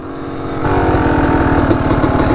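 Two-stroke motorcycle engine rising from a low rumble into a loud, rapid, buzzing rattle of firing pulses, close by and without talk.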